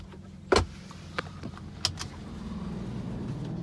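A parked car's door is opened and shut: a sharp close thump, a few lighter clicks and a second knock, over a steady low idle-like rumble outdoors by a riverside park.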